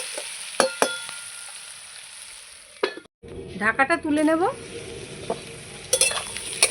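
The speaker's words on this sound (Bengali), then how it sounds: "পেঁয়াজ আলু ডাটা আমার ভালো করে ভাজা হয়ে গেছে" Onion, potato and greens stems fry in a pan with a soft, steady sizzle, broken by several sharp scraping clicks of stirring and a brief pause, while a voice speaks briefly.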